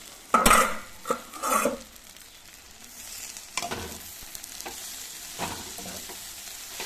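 Coriander chutney ingredients cooking in a pan with a lid, giving a few loud clattering stirs and scrapes early on, then a soft steady sizzle with occasional light knocks.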